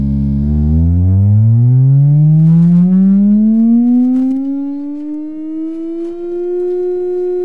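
A steady sine wave tone sweeps smoothly upward in pitch over several seconds, settling at about 340 hertz, loud and continuous with no talking.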